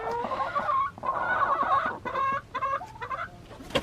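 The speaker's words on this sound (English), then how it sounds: "Baby Doll just pecked my foot" Hens clucking up close outdoors on a homestead on a hot July day, a run of throaty, repeated clucks and short squawks with no talk over them.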